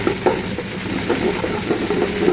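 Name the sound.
onions and flour stirred and cooking into a roux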